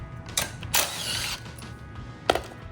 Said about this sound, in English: we're gonna remove these 2 bolts at the front of the ATV.